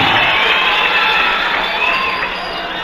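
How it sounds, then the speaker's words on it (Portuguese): Students at a PROERD drug-prevention program graduation ceremony of the Brigada Militar in Caçapava do Sul cheer and shout loudly, a dense, sustained crowd roar with children's voices that eases slightly toward the end. "eu peço aqui uma salva de palmas a todas as escolas participantes do programa do PROERD"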